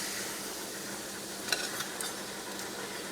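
Salmon patties fry in a pan with a steady, close sizzling hiss, while a few faint clicks and light scrapes rise above it.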